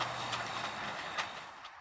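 Steam train ride near the Tillamook Air Museum, a steady broadband rumble of rolling rail cars with faint clicking wheel accents, continuous and fairly close, no voices.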